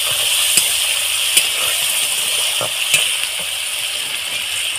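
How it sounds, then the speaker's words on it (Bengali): Red chilli powder and grated ginger sizzling steadily in refined oil, with a few soft stirring scrapes punctuating the constant hiss; close and moderately loud, no talking. "এখানে একটু লাল লঙ্কার গুঁড়ো দিয়ে দিলাম, কিছুটা আদা আমি গ্রেট করে নিয়েছি, আদা দিয়ে দিলাম, দিয়ে হালকা হাতে একটু নেড়ে দেবো।"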